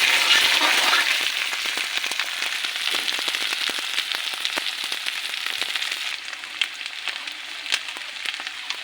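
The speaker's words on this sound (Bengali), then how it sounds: "ভালো করে লাল লাল করে ভেজে নেব।" Kochur mukhi frying in hot oil in a pan until reddish, a continuous bright sizzle with scattered crackles and pops that eases slightly toward the end.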